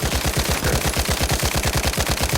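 Rapid automatic gunfire in the Vietnam War shooter game Hell Let Loose Vietnam, a loud, even burst of closely spaced shots repeating throughout without pause.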